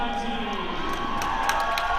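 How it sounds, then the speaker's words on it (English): A hometown crowd cheers steadily for its team at a dodgeball nationals quarter-final, a dense, continuous roar of many voices with scattered shouts rising above it. "Strike being saluted by the hometown crowd."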